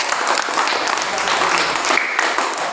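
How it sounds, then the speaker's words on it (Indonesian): A classroom of Indonesian students applauds a group of classmates, dense, steady clapping from many hands filling the room at close range, continuous and fairly loud throughout. "Tepuk tangan untuk mereka."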